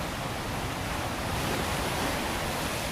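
Water from a waterfall splashes onto nearby rock, making a steady, loud, close rushing roar that fills the whole stretch without a break.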